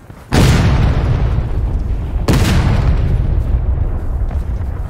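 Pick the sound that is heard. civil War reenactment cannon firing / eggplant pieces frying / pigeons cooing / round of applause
civil War reenactment cannon firing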